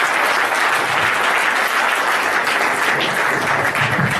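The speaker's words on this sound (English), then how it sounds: "let's have a huge round of applause to all of you." Dense, steady audience applause for a panel at a corporate responsibility and sports plenary session, loud and sustained throughout with no pauses.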